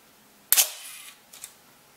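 The large metal curtain shutter of a Kiev 88 medium-format camera fires with one loud, sharp mechanical clack, followed about a second later by a softer double click as the mechanism settles. It is close up, with no talking.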